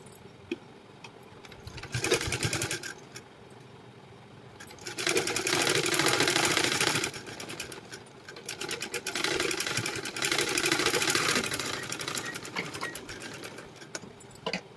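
A sewing machine stitching blouse lining cloth with a quarter-inch gap, running in several bursts separated by short pauses, its fast mechanical whirring loud and close, with no talking.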